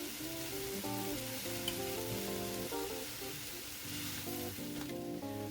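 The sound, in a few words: frozen peas cooking in pan with sweet potato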